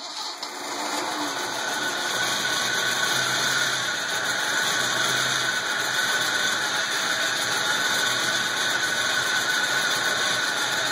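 A 1973 Datsun 240Z with an L28 engine runs steadily at idle after its first start, a constant mechanical hum with a faint high whine throughout, no talking.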